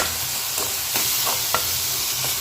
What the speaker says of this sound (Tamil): இந்த தக்காளியை நல்லா மிக்ஸ் பண்ணிக்குவோம்.